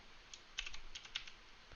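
Typing on a computer keyboard while entering a terminal command on a Raspberry Pi 3 simulator, a quick run of light, close key clicks in an irregular rhythm with no talking.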